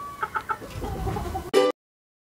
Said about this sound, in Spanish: Aquí ya el video de los pollitos que vamos a entregar